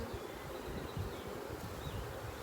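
Honey bees buzz around a hive at an apiary in June, a soft, steady hum of many insects with a few individual bees droning past close by.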